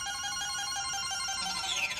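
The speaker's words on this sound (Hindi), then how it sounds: "रुको हम जरा बिट्टू भैया को फोन करें।" A phone rings steadily while a call to someone is being placed, with a tonal electronic ring running for the full two seconds at moderate level and no voices.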